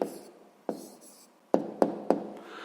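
A pen writes an answer by hand on paper, a soft scratching broken by several sharp taps as the pen meets the page, close and quiet.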